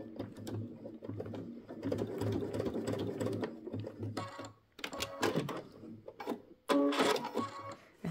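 A sewing machine runs in bursts, basting fabric for a wristlet, with rapid needle clatter stopping and starting. There are mechanical clicks between runs and faint background voice sounds in places.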